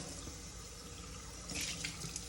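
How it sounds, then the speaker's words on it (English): Running water rinses out a stone mold with soapy solution, a brief steady faucet-like splash close by, briefly brightening near the end. "I rub it with the soapy solution, rinse it out really well"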